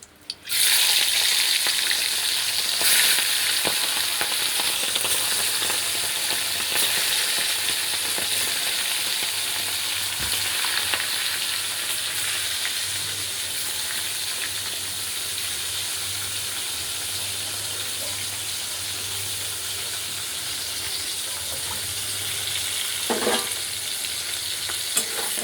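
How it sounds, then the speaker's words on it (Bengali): Fish frying in hot oil in a wok gives off a loud, steady, continuous sizzle that lasts throughout, with occasional stirring and no talk. "কড়াইতে তেল বসিয়ে দিয়েছি। দেখুন, মাছগুলোকে আমি ভেজে নেব।"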